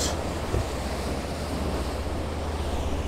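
Sea waves wash steadily around coastal rocks in a continuous roar of surf, with wind buffeting the microphone throughout and no voices.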